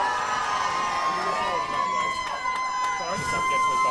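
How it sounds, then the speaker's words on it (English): An audience at a live event screams and cheers in a sustained, loud roar, with whoops and shouts rising throughout. "If you think Honk the Goose won, give us a scream."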